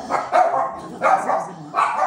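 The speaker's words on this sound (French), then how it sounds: "c'est ma chienne, comme elle a aboyé" A pet dog barks indoors, three separate sharp barks evenly spaced, each loud and close.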